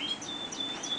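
Aviary finches, greenfinches or canaries, chirp with repeated high thin tweets over a steady background hum, moderately near and alone with no talking.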